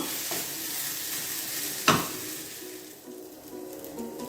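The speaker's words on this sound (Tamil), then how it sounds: "இப்போ இந்த பரங்கிக்காய் நல்லா வதங்கிடுச்சு." Yellow pumpkin is being sautéed in a pan, giving a soft, steady sizzle with light stirring and one sharp utensil clack partway through, no talking.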